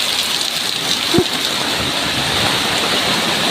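Heavy rain pours down hard in a strong wind, a dense continuous roar with one brief low thump partway through, no talking.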